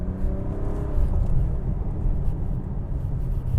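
An Acura TLX Type S drives through corners, its engine giving a steady, close, low rumble and whir with road noise and no break throughout.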